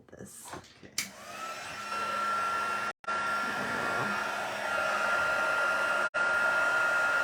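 A handheld heat tool blows hot air over a paper stamping craft project, giving a loud, steady whooshing drone heard up close that cuts out briefly twice before resuming.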